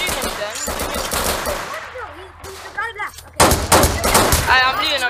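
Gunfire crackles in rapid bursts during a raid in a multiplayer video game, loud and close, with voices talking over and between the shots.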